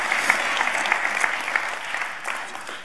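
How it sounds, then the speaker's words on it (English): A church congregation claps for a child, giving a steady round of applause at moderate distance that tapers slightly at the end. "give Ava a round of applause, will you?"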